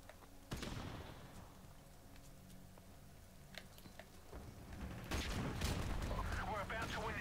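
Video game gunfire crackles in faint scattered shots, with a sharp burst early on and a denser, louder volley near the end, mixed with voices talking.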